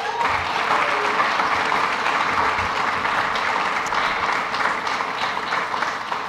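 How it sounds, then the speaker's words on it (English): Audience at an elementary school community grand opening ceremony applauds in a steady, dense wash of clapping that holds evenly for several seconds without pause. "How about a round of applause?"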